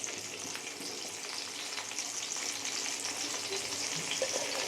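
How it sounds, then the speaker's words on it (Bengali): Koi fish (climbing perch) frying in oil in a home kitchen, a steady close crackling sizzle with faint bubbling and occasional soft pops, no voices. "এই যে তেল কই হবে, ওই জন্য কই মাছগুলো ভাজা বসিয়ে দিয়েছি"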